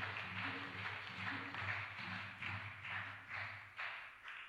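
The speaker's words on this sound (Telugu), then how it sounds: "వీరందరికీ కూడా గట్టిగా చప్పట్లు కొడుతూ కృతజ్ఞత తెలియజేసుకుందాం" A church congregation at a Sacred Heart feast prayer service claps in a steady rhythmic beat, the bursts repeating roughly twice a second over a low sustained hum, moderately loud and even throughout.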